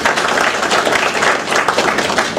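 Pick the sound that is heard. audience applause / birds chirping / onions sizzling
audience applause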